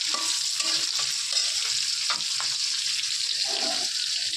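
Fish frying in a pan of hot oil while being stirred, a steady close sizzle with scraping and clinks of the utensil throughout.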